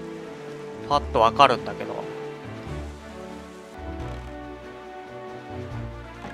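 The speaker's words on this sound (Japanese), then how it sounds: "雨降ってるな" Rain in Zelda: The Wind Waker hisses as a steady soft wash under someone speaking Japanese, with a brief burst of louder game sound near the start.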